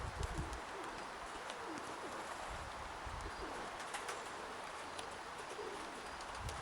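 Pigeons coo outdoors in gusty wind, soft low calls repeating faintly under a steady rush of wind noise, with no talking.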